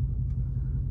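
A car backing out of a parking spot gives a steady, deep engine rumble, close and even throughout the brief moment, with no voices.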